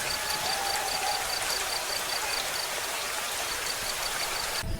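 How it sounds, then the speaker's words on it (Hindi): Raindrops drum on a tin roof during a stormy night, a steady, dense hiss of rain that stays even and fairly loud throughout with no voices. "बारिश की बूंदें टीन की छत पर डरावनी आवाज कर रही थी।"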